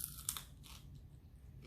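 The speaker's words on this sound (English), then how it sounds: "there's such a loud crunch when you bite into it." Crunch of teeth biting into a flaky pastry egg tart shell, a short crisp crackle up close, fairly quiet, with no talking.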